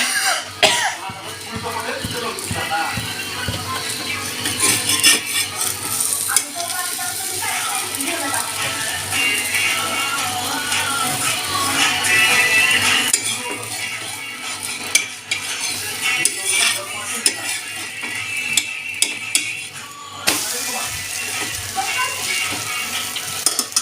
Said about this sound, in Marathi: आता आपण ह्या दुसऱ्या साईडनं ह्या पोळी शेकून घेणार आहोत अंड्याची.